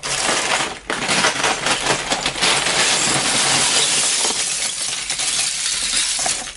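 Loose Lego bricks being scooped up by hand make a dense, continuous plastic clattering and rattling, loud and close, with no talking.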